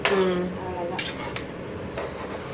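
A pot of paneer pulao gets a light stir with a utensil, producing a few soft scrapes and clinks spaced across a couple of seconds, with no talking.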